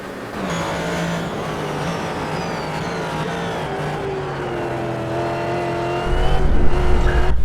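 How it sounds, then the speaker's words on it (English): A GT race car in a sim racing league drifts through a corner at Road Atlanta, its engine holding a loud, sustained whine that slowly falls in pitch, joined by tire scrub and a rougher roar near the end, with no talking. "drifting through that corner"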